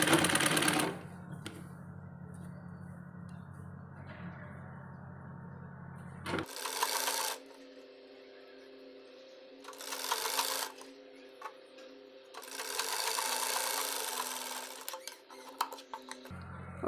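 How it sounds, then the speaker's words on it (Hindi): A sewing machine stitches a bias strip onto a baby frock, running in several bursts of steady whirring with short pauses between, close and clear. "उरेब वाली पट्टी को नीचे की साइड में रखकर यहाँ से सिलाई करेंगे।"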